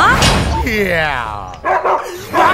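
A dog barks and yips loudly up close, with whimpering, whining tones between the barks.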